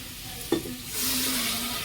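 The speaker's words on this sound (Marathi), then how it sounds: "आता मी वाटण टाकून घेते" A soft thud as a wet ground paste drops into hot masala for a chickpea curry, then the sizzle swells louder and keeps hissing steadily.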